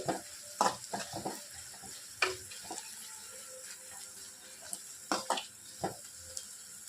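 Barbati pakodi fritters frying in hot oil, a soft steady sizzle broken by sharp bursts of spatter and stirring clatter as batter is dropped and turned, close and with no talk.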